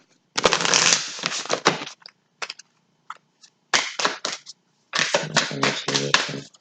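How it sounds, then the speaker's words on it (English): A deck of tarot cards is shuffled by hand in several close bursts of crisp riffling and flicking, separated by short silent gaps, with no talking. "One more shuffle."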